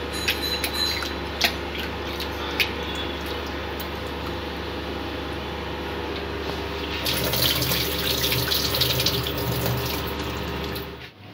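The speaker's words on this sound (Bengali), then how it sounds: "ডালটা ভালো করে ধুয়ে নেব।" Moong dal lentils are rinsed in a kitchen under a running tap, a continuous close splash of water that swells louder and brighter near the end before cutting off abruptly.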